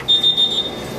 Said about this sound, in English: So the timer for the salmon just went off.